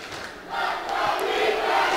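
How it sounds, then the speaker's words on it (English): Large college football stadium crowd at an Everett Red Raiders versus Eastside Bulldogs game, a broad roar of cheering and shouting that swells after a quieter start and holds loud to the end. "What a crowd."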